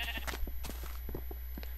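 Minecraft sheep give several short bleats in a quick cluster, fairly faint over a steady low hum.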